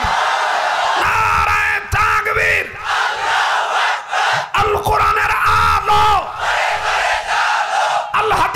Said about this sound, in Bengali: চতুর্দিকের মানুষ আবার নারায়ে তাকবীর, নারায়ে তাকবীর